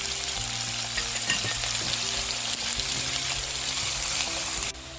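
Onions frying with salt in a pan hiss in a loud, steady sizzle with faint stirring scrapes, running without pause until it cuts off abruptly near the end.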